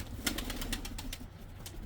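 A tumbler pigeon in long display flight beats its wings in a quick series of sharp, clattering flaps, fairly close and alone with no voices.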